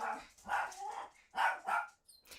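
A dog barks several times in quick bursts at a moderate distance, fairly faint, with no talk over it.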